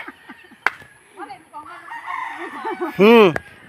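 A rooster crows loudly nearby with a rising and falling call, preceded by softer clucking and bird chatter.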